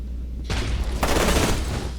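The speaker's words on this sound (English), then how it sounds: "Yeah, there's a frag grenade." Frag grenade blast in the shooter game FEAR 2, a loud, close explosive burst followed by a second heavy rumbling blast, with no talking.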